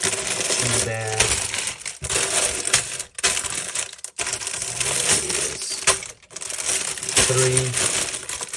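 Plastic bags of LEGO pieces from a Lilo and Stitch Beach House set being handled, with crinkly rustling and small rattling pieces shifting close by throughout, under a person talking.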